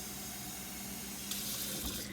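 Warm water runs from a kitchen tap into a cup for sourdough bread dough, a steady close gushing stream whose pitch brightens as the cup begins to fill.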